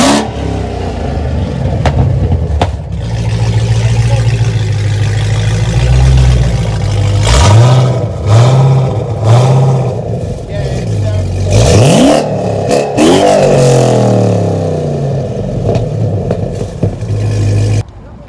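A widebody Dodge Charger Hellcat with a custom straight-pipe exhaust, no cats and QTP cutouts, rumbles loudly up close, blipped through several sharp revs that rise and fall in a quick series before settling back to a deep idle.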